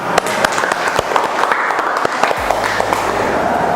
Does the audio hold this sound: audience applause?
yes